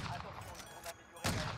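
Gunfire from a gun in a video game: a few sharp shots, including a loud burst near the end, over continuous game background noise.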